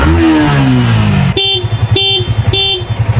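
A motorcycle engine starts after a repair and settles into a loud, close, pulsing idle, punctuated by three short, evenly spaced horn-like blasts.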